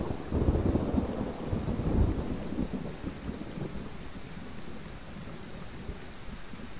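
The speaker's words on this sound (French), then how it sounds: "Là, on est sous un orage là, pleine tempête." Thunderstorm in the military video game Arma 3: steady heavy rain hiss with deep rolling thunder rumbles, loudest in the first two seconds, then a continuous downpour with no talk.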